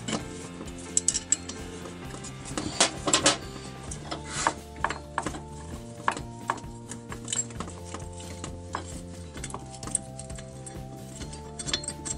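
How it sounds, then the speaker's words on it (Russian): A bolt on a string trimmer clutch being loosened with a 17 mm wrench, giving close, irregular metallic clicks and ratcheting taps against a steady background hum. "откручиваем один из болтов"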